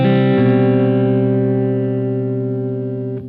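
Electric guitar passing note between chords, played through an effects patch: one clean sustained note ringing with reverb, then a second softer pick near the end, no talking.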